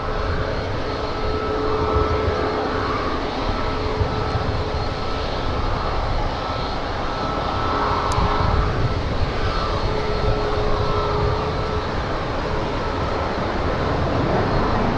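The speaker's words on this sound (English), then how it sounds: "It's a 737 MAX 9 flying to Denver, Colorado." A Boeing 737 MAX 9 jet at an airport gives a steady, loud, broadband engine roar lasting the whole stretch, with no pauses or talk.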